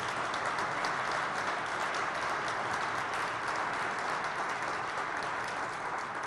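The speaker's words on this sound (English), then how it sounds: "we all owe him a round of applause and a gracious thank you" Sustained audience applause at a charity kickoff event for a hunger relief campaign, a steady dense wash of clapping at moderate distance lasting throughout without pauses.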